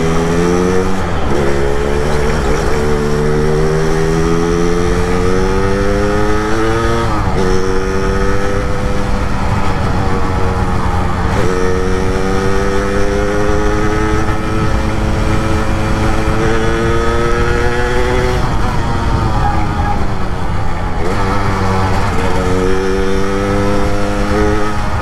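A Yamaha RX King two-stroke motorcycle engine with an Accossato clutch runs steadily and loudly for the whole stretch, its revs climbing and dropping in repeated waves without any talk.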